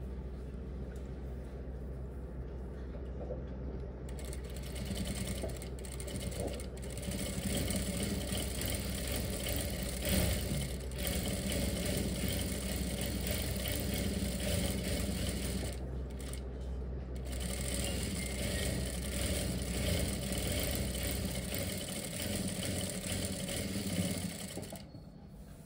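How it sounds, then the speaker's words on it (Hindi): A sewing machine runs in long steady bursts while stitching strips onto formal trousers, a close continuous mechanical whir with short pauses between runs. "दोनों पट्टियों के ऊपर हम ऐसे ही सिलाई लगा देंगे।"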